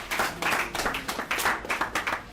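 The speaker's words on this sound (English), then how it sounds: "One clap for him." Audience clapping at a youth bootcamp event, several short bursts of hand claps coming in uneven waves, moderately loud with a faint voice underneath.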